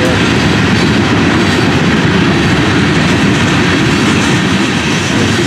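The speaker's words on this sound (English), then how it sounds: "See that train right here from the dryness of the front porch?" A long freight train of over 100 rock cars rolls past close to a front porch, a loud continuous rumble with steady clickety-clack of wheels, no voices.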